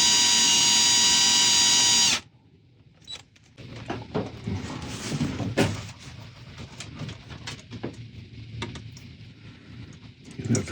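Drilling a hole in a brass Victorian mystery clock part: a loud steady whine for about two seconds cuts off, then quieter scraping, clicks and handling noises follow close by.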